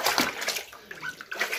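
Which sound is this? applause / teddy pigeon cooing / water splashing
water splashing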